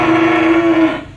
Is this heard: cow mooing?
yes